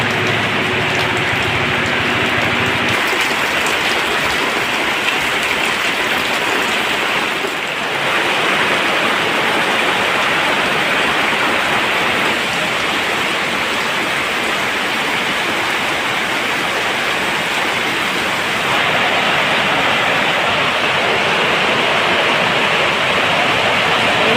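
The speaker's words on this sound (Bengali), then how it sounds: "এদিকে অজরে বর্ষা শুরু হয়ে গেছে দেখুন" Heavy monsoon rain pours down steadily outdoors as a dense, continuous roar, loud and unbroken for the whole stretch, with no voices over it.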